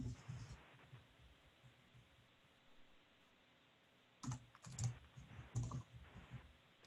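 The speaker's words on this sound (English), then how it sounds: "If I can type this morning." Computer keyboard keys tapped in two short bursts of quick, close clicks, separated by a quiet stretch with only faint room noise.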